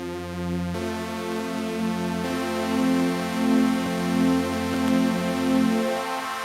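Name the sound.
Arturia MatrixBrute synthesizer playing paraphonic sound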